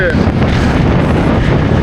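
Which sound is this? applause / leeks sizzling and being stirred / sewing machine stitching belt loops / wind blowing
wind blowing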